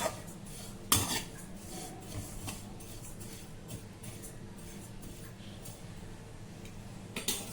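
Spices such as cumin and coriander dry-roasted in a pan and stirred with a utensil, a sharp scrape at the start, then steady light rattling and scraping against the metal, close by.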